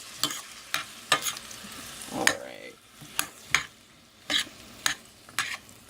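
Smoked sausage browns in a pan under a soft sizzle, punctuated by sharp, evenly spaced taps and scrapes of a utensil turning the pieces, one longer scraping stir in the middle.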